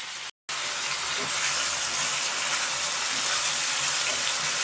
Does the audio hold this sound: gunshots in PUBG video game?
no